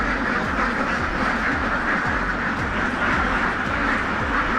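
Ducks quack in a dense, continuous crowd at a poultry farm duck pen with a drinking and bathing area, the flock loud and close throughout.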